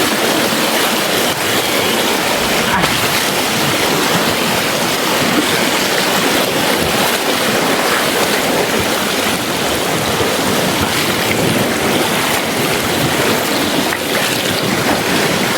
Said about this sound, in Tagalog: Ang hirap tumawid mga idol dahil sobrang ano, lakas ng tubig.